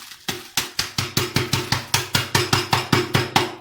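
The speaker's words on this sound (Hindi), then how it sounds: "तो मैंने अच्छी तरह कूट लिया है क्रंच को।" Crunchy topping for matka kulfi is pounded to crush it, giving a rapid, steady run of about fifteen sharp thuds with a crunchy edge, close and fairly loud.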